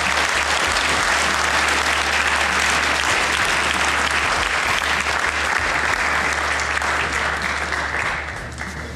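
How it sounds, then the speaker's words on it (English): Sustained, loud applause from a town hall audience gathered for Oscar Grant, a dense continuous wash of clapping that tapers off slightly near the end. "So please all give them a round of applause."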